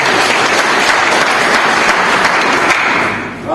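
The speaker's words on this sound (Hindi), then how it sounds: "एक बार इनके लिए जोरदार ताली हो।" Loud, steady applause from a seminar audience at a network marketing event, a dense wash of clapping that holds evenly for about three seconds, then dips briefly before rising again at the end.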